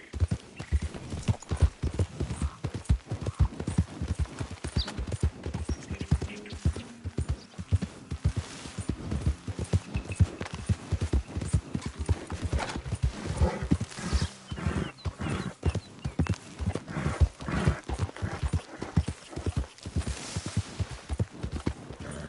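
Horse hooves gallop steadily in a western video game, a fast continuous drumming of heavy thuds on dirt that stays loud and close throughout, with no voices.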